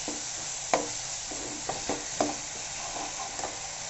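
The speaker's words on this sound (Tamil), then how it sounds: "ஸோ இப்போ இந்த கேப்சிகம் நல்லா வதங்கிட்டே இருக்குது." Capsicum sautéing in masala in a home pan, a soft steady sizzle with several sharp stirring scrapes and taps scattered through, quiet and close.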